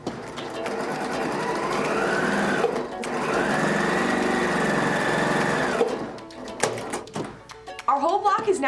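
A sewing machine joins a roof piece to the house body of a quilt block, running in two long, close, whirring bursts with a short break between them, followed by a few scattered knocks and a brief voice at the end.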